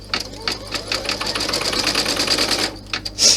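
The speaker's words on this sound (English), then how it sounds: "Let it stitch the placement." An embroidery machine stitches the placement line for a 40-inch in-the-hoop bag strap, giving a steady, fast, close mechanical chatter of needle strokes that runs throughout with slight variations in loudness.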